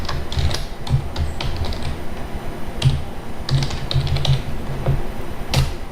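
Code typed on a computer keyboard into an interactive Python session at a command prompt: a steady run of close, crisp key clicks at an uneven typing rhythm, with no voice present.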